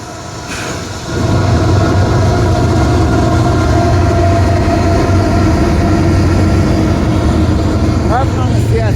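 Intermodal freight train crossing a bridge on CSX track at Kenova, West Virginia: a steady, loud rumble and rolling wheel noise that builds after the first second and continues throughout, with a brief squeal near the end.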